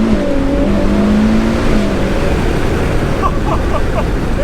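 A Ferrari 812 GTS convertible's 800-horsepower V12 pulls away at low speed with a loud, close engine roar that rises in pitch, while road and wind noise run underneath.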